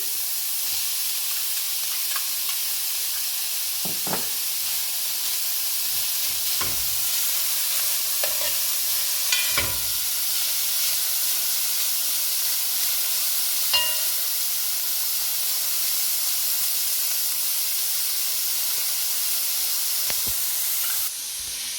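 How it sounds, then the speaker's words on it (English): Steady loud sizzling and hissing of vegetables and peppers frying in a pan for fried rice, with occasional scrapes and clinks of stirring; no voices. "It's been frying for about 2 minutes."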